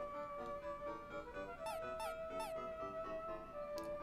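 Pluto, the cartoon dog, gives a run of high squeaky whimpers and yips over a steady background music tone, several short rising whines clustered in the middle of the clip.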